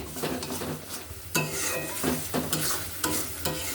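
Soybean paste stirred in a frying pan, a utensil scraping and pushing the thick mixture in repeated strokes over a steady close sizzle, with occasional clinks against the pan.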